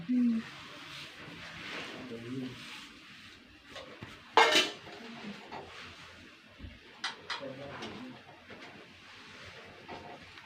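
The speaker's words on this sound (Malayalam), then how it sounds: "നമുക്ക് ഓരോന്നായിട്ട് ചട്ടി വെച്ച് കൊടുക്കട്ടോ" Clay cooking pots set down and handled one by one in a home kitchen, close clinks and knocks with one sharp clatter, under occasional talking.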